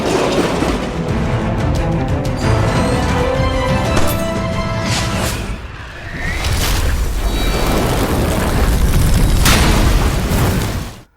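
Loud, dense blasts and booms of grenades, mortars and bombs rumble continuously, with bursts and crashes layered over each other, dipping briefly before swelling again near the end.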